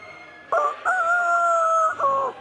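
Rooster crowing during a stage theatre performance: one loud, close, drawn-out cock-a-doodle-doo in three tonal segments, with a rising start, a long sustained middle and a falling finish, heard alone.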